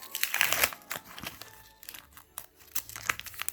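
A wrapper on a pack of Calciatori 2021 football stickers is torn and peeled open, giving close crinkling and tearing in bursts, loudest at the start, with no talking.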